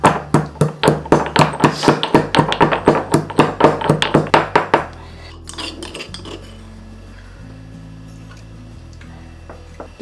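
Dry ginger and black pepper pounded in a mortar for an immunity kashayam: about twenty sharp, rhythmic metallic thuds in quick succession for five seconds, then quieter scraping and handling sounds.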